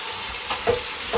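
Ingredients tipped into a pan of frying onions in a home kitchen, a steady sizzle rising with a couple of brief louder bursts as the food hits the hot oil, close and alone.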